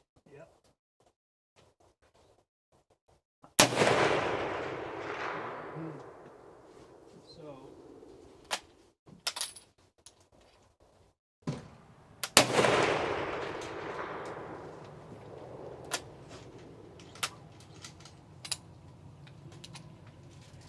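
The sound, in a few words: antique ammunition fired from a WWI rifle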